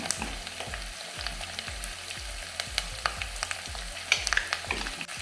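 Green chilies and curry leaves sauté with turmeric in a pan, with a steady sizzle under a regular rhythm of spatula strokes scraping and tapping the pan, close up and with no talking.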